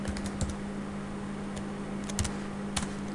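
Typing on a computer keyboard while entering commands in foam cutter design software: sparse, light key clicks in short irregular bursts over a low steady hum, no talking.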